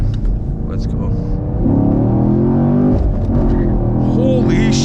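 A 2021 Chevrolet Camaro SS 1LE accelerates hard down a straightaway, its engine droning loud and close from inside the cabin, rising in pitch, with a gear change midway and a brief voice near the end.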